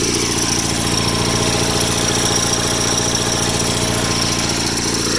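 Small single-cylinder engine of a rare factory-built Cub Cadet garden tractor, with a freshly resealed intake and rebuilt carburetor, running steadily up close with an even, unbroken loud chug and no misses.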